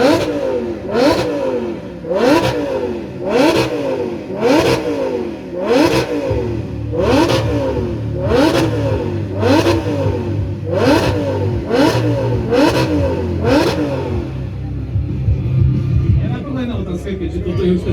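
Engine revving hard to about 8,000 rpm with its rev limiter removed, in a rapid repeating series of sharp, loud bursts that climb and drop, with background crowd chatter; the rhythm breaks off near the end.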